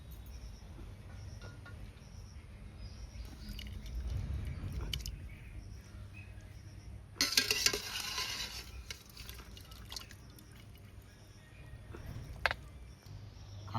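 Boiled mutton pieces, cooked with onion, ginger, garlic and spices, stirred and lifted from a pot. Scraping and clattering of the spoon builds, then a sharp loud burst, and brief clinks follow against a steady low background.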